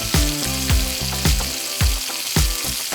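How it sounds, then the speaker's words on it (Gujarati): Finely chopped fenugreek leaves sautéing in a little oil in a kadai: a continuous sizzle broken by regular scraping stirs roughly every half second, close and clear, with no talking. "હવે એક કડાઈમાં થોડું તેલ લઈ ઝીણી સમારેલી"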